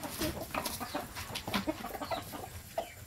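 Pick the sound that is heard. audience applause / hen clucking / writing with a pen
hen clucking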